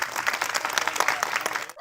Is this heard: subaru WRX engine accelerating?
no